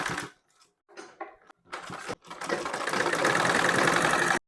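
A sewing machine stitches folded piping onto a blouse sleeve edge, starting in short stop-and-go bursts, then running steadily and close for a few seconds before stopping abruptly.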